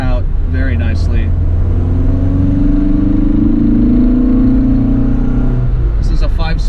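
A 1975 Lancia Fulvia's engine hums and rumbles steadily while driving in fourth gear of a 5-speed manual, its pitch rising and falling gently, with a person talking briefly at the start and end.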